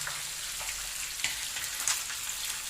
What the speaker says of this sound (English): Now she's frying up the fish.